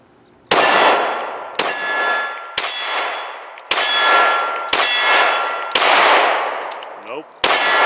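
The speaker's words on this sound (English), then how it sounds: "we'll go ahead and load these mags up, and we're going to shoot it again" Seven sharp shots from a Smith & Wesson M&P Shield 9mm 2.0 pistol, each ringing with a loud metallic clang off steel targets, spaced roughly a second apart with decaying rings between.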